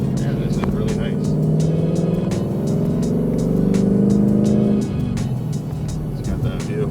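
A Ford Mustang GT V8 engine drones steadily from inside the cabin, its pitch holding then dropping off as the throttle eases, with a voice talking over it.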